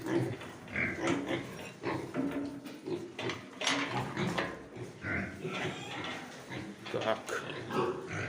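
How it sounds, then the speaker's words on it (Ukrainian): Pigs grunting and snorting up close in an irregular stream, with a voice talking briefly over them. "Непогані свинки."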